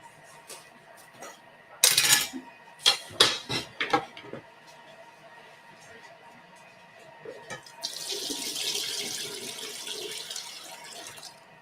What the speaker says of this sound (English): we're going to tip out some of this water now